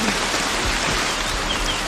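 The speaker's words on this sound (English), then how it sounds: "That night, the rain continues to fall." Steady rain falls through the night in the Amazon rainforest, a dense, even hiss of drops on surfaces with a low rumble underneath, continuous and fairly loud with no voices.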